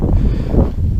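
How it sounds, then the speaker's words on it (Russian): Strong wind gusting over a frozen river during a late-November ice-fishing check, a steady loud low roar buffeting the microphone throughout with no talk. "Поднялся страшный ветер, поднялся."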